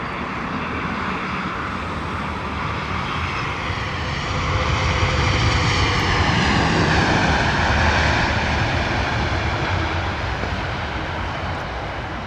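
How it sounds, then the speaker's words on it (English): A Virgin Atlantic airliner arriving at London Heathrow from Washington roars past as a broad, rushing engine noise that swells toward the middle and then eases slightly, heard from a distance with no voices. "Beautiful arrival there from the Virgin 330 coming in from Washington."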